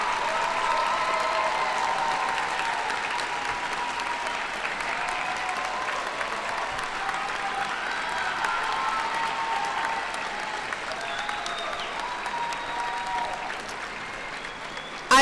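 A graduation ceremony audience applauds the parents, a sustained, dense wash of clapping from a large crowd in a hall that carries on steadily for the whole stretch.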